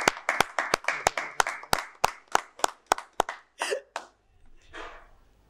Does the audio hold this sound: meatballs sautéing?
no